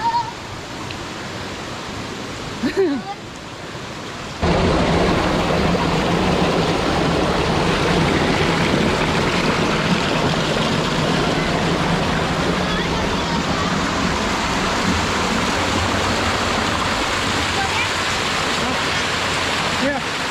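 Wang Duean Ha waterfall pours in a steady, loud broadband roar, with a quieter stretch of rushing water in the first few seconds before the full torrent fills the rest.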